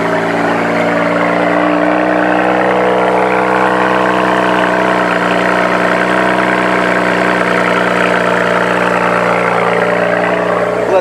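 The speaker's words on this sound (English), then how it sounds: "That was the weirdest cold start I've ever heard from this BMW." BMW E92 engine idling just after a cold start, a steady, fairly loud low hum with an even, unchanging drone for the whole stretch, and no one speaking.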